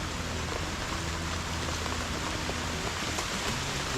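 Rain falling on a house roof, a dense, even patter of drops hitting the surface without a break, steady and fairly loud throughout, with no voices over it.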